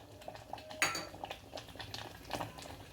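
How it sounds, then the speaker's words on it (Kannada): Metal utensils clink and scrape against a pan on the stove as oil and ghee go in for vegetable bisibele bath, a few sharp knocks followed by lighter tapping, close and alone with no voices. "ಇದಕ್ಕೆ ಎಣ್ಣೆ ತುಪ್ಪ ಎರಡೂ ಹಾಕ್ತಾಯಿದ್ದೀನಿ."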